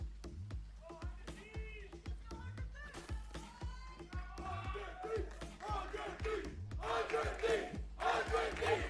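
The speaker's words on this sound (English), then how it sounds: "Crowd still alive and well." Esports arena crowd at a Valorant Americas League match between 100 Thieves and Leviatán, roaring and chanting in steady surges that build louder toward the end, with rhythmic drumming-like thumps underneath.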